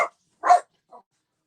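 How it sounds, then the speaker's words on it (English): Dogs bark outside: three short, sharp barks spaced apart, the last one fainter, with silence in between. "The dogs outside are so mean."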